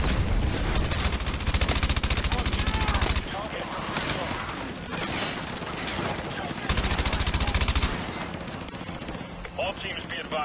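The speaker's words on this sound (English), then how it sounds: "Just gonna shoot into the smoke." Rapid automatic gunfire fills a Modern Warfare 2 Remastered firefight in two long, loud, close bursts, with quieter scattered shots and battle noise in the gaps between them.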